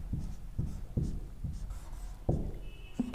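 Marker or chalk writing on a classroom board during a biology lesson, a series of short scratchy strokes repeating at a steady pace, close and clear with no talk over them.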